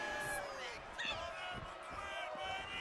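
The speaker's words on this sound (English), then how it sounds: "Crowd are liking it" Crowd noise in the wrestling video game WWE 2K25 forms a steady roar of cheering with a few whoops rising above it, fairly faint and short, with a voice talking over it.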